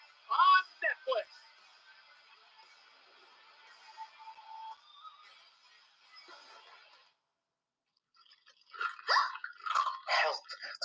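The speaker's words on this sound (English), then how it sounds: "There's crunch in my Skittles" Crunchy chewing of Skittles candy in a television commercial aired during a wrestling broadcast: a few sharp, close crunch bursts at the start and again near the end, mixed with voices and a steady tonal background.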